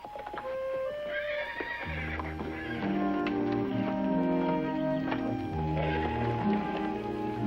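A horse gives a loud, shaky whinny nearby, with faint rustling and movement sounds around it.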